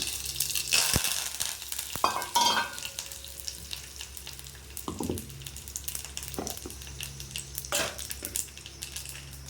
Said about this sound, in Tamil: கடுகு போட்டுக்கிறேன். ஒரே ஒரு வரமிளகா, கருவேப்பிலை.